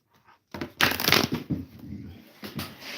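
A St. Michael deck of cards is shuffled close up, with a quick riffle burst followed by softer rustling and a few short final riffles, no talking.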